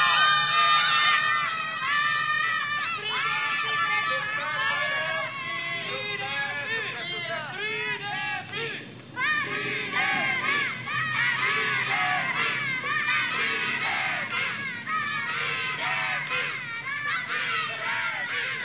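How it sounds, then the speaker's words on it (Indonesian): Audience at a duet performance cheers and screams excitedly, high shrieks and shouts piling up over a busy crowd din that barely drops for the whole stretch. "Gila, semua tepuk tangan."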